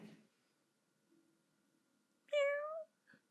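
A kitty gives a single clear, drawn-out meow, close and fairly loud, followed by a brief softer chirp; otherwise the surroundings are quiet.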